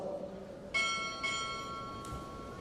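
Ship's bell struck at a Navy chief petty officer pinning ceremony at Recruit Training Command: two clear metallic strikes in a close pair with long ringing decay, a fainter third tap later, over quiet room ambience.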